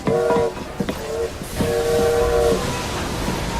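Steam locomotive in Assassin's Creed Syndicate, its whistle sounding in two long blasts separated by a short pause, over rumbling engine noise, with a brief voice between the blasts.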